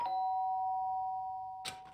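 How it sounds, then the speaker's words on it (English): A Danganronpa video-game doorbell tone rings out and decays slowly over about a second and a half. A short burst of other game sound follows near the end. "The sharp sound of the doorbell pierced my sleepy haze and pulled me back to the real world."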